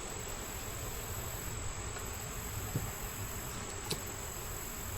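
A dense, steady hum of many honeybees swarming over an open hive during a September inspection, close and continuous with a couple of faint knocks.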